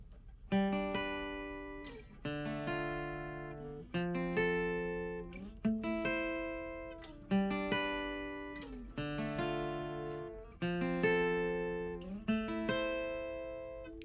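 A strummed acoustic guitar plays the electric guitar part of a song, a repeating rhythmic part, bright chords with choppy on-and-off strums, steady and close, no voices.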